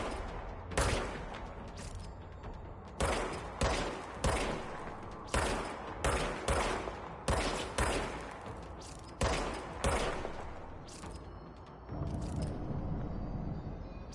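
In the video game Control, the Service Weapon fires about a dozen sharp, loud shots, some alone and some in quick pairs. Each crack leaves a short decaying tail, and a low rumble is left at the end.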